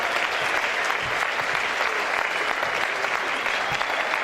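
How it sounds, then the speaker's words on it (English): Dense, sustained audience applause at a dance competition event, many hands clapping loudly and evenly throughout, with faint crowd voices mixed beneath. "can we give you guys a big round of applause?"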